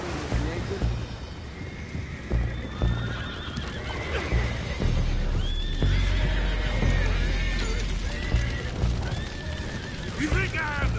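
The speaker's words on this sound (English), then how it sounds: "go find out about those horses down below" Horses whinny and neigh repeatedly while hooves clip-clop in a busy Red Dead Redemption 2 scene, with game voices talking over the commotion and occasional booming impacts in the background.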